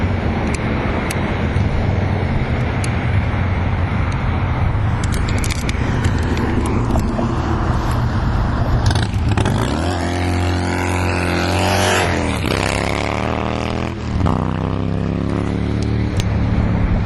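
A 1970 Chevelle SST engine revs and climbs through the gears as the car accelerates back up the road, with wind buffeting the microphone and a steady rumble underneath.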